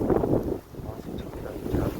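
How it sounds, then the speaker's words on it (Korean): Strong cold wind in a severe cold snap, gusting through trees and rushing steadily into the microphone with a low roar that surges, briefly drops, then swells again. "이렇게 바람에 날리는 소리들, 이게 전부 다 바람 소리입니다."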